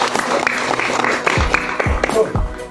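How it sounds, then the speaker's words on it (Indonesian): An indoor audience applauds in a seminar hall, with a burst of scattered claps and a few louder taps over a crowd murmur. "Aplaus untuk Indonesia."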